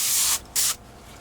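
An airbrush sprays Vallejo airbrush cleaner through while being cleaned of black paint on a Tamiya 1/48 Spitfire model, two short bright hissing bursts, close and alone, then quiet.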